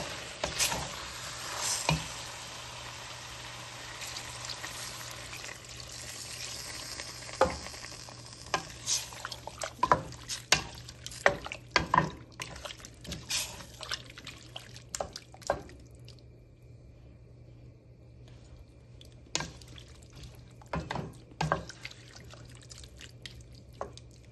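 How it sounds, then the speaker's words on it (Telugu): Water is poured into marinated chicken curry in a pot, giving a splashing, bubbling sizzle. Clattering knocks and scrapes follow as the lid goes on, then the sound settles to quieter intermittent clicks. "ఇప్పుడు దీంట్లో వాటర్ వేసి మూత పెట్టి మగ్గిద్దాం."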